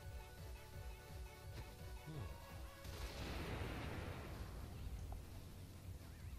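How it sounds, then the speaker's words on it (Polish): A landmine explosion in Fallout: New Vegas: a heavy, booming blast erupts partway through and rolls off into a rumbling decay, set against a steady synthetic background drone. "Na Freddym wybuchła mina"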